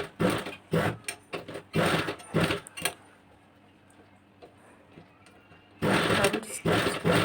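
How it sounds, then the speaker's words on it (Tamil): A sewing machine stitches a small hair band, running in quick loud bursts with brief pauses, then going quiet for a few seconds before a final steady run. "அதனால் உள்ளே விட்டு கரெக்டாக தையல் அடிச்சிடணும்."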